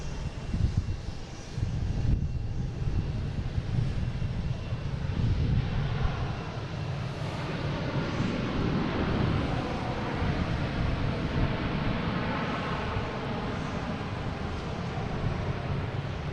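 An Aer Lingus Airbus A330 jet airliner, inbound from Dublin, arriving at Boston Logan International Airport, with a steady, broad engine roar that holds loud and continuous throughout, slightly heavier at the start, with no voices present.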